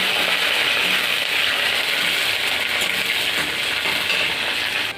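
A loud, steady sizzling hiss of peanuts and chillies frying in a hot pan, continuous throughout with no voices.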